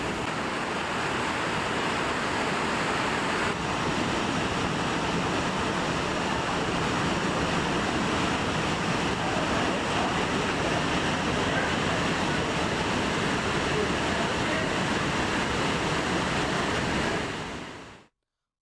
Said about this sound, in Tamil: பஞ்சலிங்க அருவியில் திடீர் வெள்ளப்பெருக்கு ஏற்பட்டுள்ளது